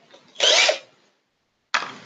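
A power drill fitted with an oversized bit bores into guitar-building stock in two bursts: a harsh grinding whir lasting about half a second, a pause of silence, then a second burst cut short.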